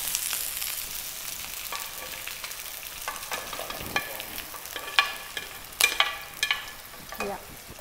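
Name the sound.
stirring grilled chicken pieces into tomato gravy in a pan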